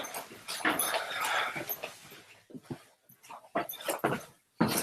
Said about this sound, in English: So here is my dog.